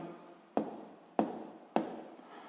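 Pen or chalk writing out a physics problem solution, heard as three short scratchy strokes at regular intervals, close and fairly quiet with no talking.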